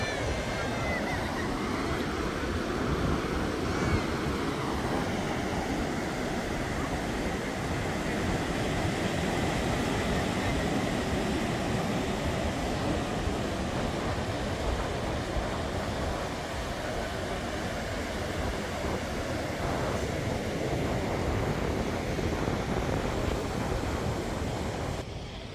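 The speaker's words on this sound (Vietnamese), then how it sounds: "sóng to này, lướt sóng rất là thích" Ocean waves breaking steadily on Seminyak beach in Bali on a sunny day, a continuous broadband surf roar with wind noise over the microphone, holding even and loud for the whole stretch with no talk.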